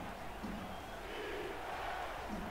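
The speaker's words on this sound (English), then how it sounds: "The crowd here in Atlanta is stomping their feet, making all sorts of noise" A stadium crowd in Atlanta at an American football game roars and rumbles in a dense, sustained wash of noise, loud and steady throughout without distinct individual voices.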